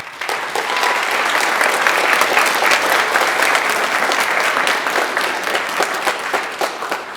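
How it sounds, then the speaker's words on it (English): A large crowd applauds at a high school and middle school choir concert in Hebron, Indiana, a dense, loud, steady wash of clapping that starts at once and holds for several seconds before easing slightly. "give the high schoolers another round of applause"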